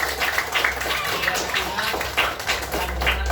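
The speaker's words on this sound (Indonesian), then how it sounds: "Kasih tepuk tangan dulu Alexa ya." Children in a classroom give a short round of applause, with scattered hand claps at an uneven rhythm over a steady low hum.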